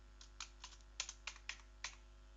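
Computer keyboard keys tapped while writing code, about eight soft, irregular clicks spaced through a quiet room, some in quick pairs, with a faint low hum beneath and no talking.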